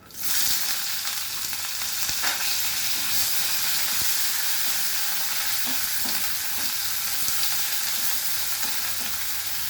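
Onion goes into hot oil with cardamom, cinnamon and cloves. A loud, continuous hiss and sizzle starts at once and holds steady for several seconds, broken by faint scattered ticks.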